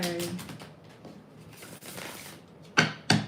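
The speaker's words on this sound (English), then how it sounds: "Give me 2 more shuffles, they say." Tarot cards are shuffled by hand in a steady papery riffle, followed by two louder sharp slaps of the deck near the end, close and clear with no speech.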